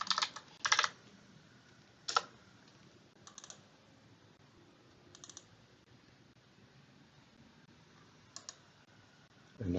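Someone types on a computer keyboard in short, quiet bursts of clicking keys, separated by pauses of a second or more, in a hushed room with faint background hiss.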